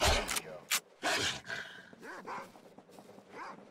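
Dogs in the video game S.T.A.L.K.E.R. make several barks, yelps and snarling noises in a quick irregular series, close by, with growly tones between the louder bursts.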